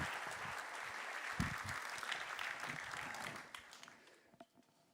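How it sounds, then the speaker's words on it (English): A live audience claps enthusiastically for Top Dutch Solar Racing's non-technical team at the team's 2023 car reveal. The dense applause holds steady for several seconds, then thins out and fades. "A big applause for the non-technical team first."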